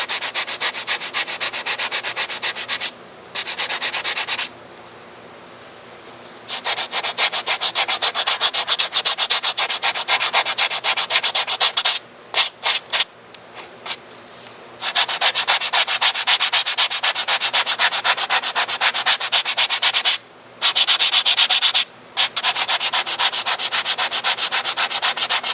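Hand sanding on the body of a scale RC model of an Emirates 777-9X airliner: long runs of loud, steady rubbing broken by short pauses and a few quick strokes.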